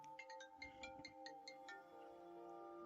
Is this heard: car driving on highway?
no